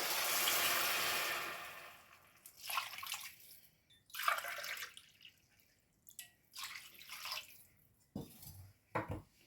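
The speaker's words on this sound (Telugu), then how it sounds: "నేను ఈ గ్లాస్తో 3 గ్లాసెస్ ఆఫ్ వాటర్ అయితే పోసుకుంటున్నాను" Water is poured from a glass into a cooking pot for vermicelli biryani, with a steady splashing pour followed by several shorter pours and clinks in a quiet kitchen.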